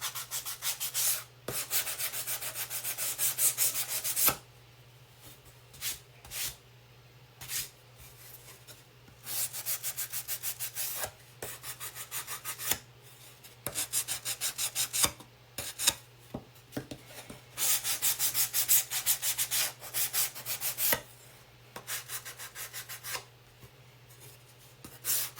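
A pumpkin being sanded by hand, rapid rasping strokes in bursts separated by brief pauses, close and fairly loud against a steady low hum.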